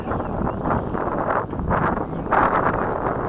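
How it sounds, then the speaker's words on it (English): Steady wind blusters across an outdoor model jet flying field, a continuous broadband rush that swells in gusts and never drops away, with no voices over it. "Just as the wind's calming down."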